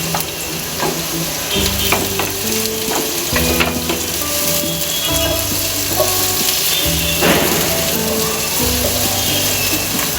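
Chopped carrot stir-frying in a pan for shrimp fried rice: a steady, loud sizzle with repeated scraping and clattering stir strokes throughout, no voices.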